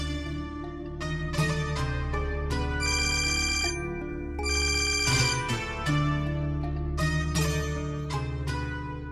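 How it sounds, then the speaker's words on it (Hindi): A phone ringtone plays on a call nobody answers, a melodic repeating tune that rings steadily and fairly loudly, with no one speaking over it. "पता नहीं क्यों नहीं फोन उठा रही है।"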